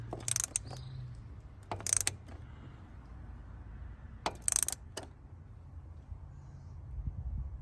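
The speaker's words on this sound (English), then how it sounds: "grab my ratchet, make sure it's on the on position, which is to close it. And then just give it a snug." A ratchet wrench snugs the oil drain plug on a 2017 Toyota 86 in a few short bursts of close clicking, separated by quiet pauses over a low steady background hum.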